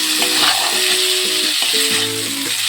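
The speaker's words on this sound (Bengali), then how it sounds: "এবার চিংড়ি মাছ আর মোচাটাকে মশলার সহযোগে খুব ভালোভাবে কষিয়ে নেব।" Prawns and boiled banana flower are stir-fried in an oily spice paste, sizzling loudly and steadily close by while a spatula scrapes and clatters against the pan.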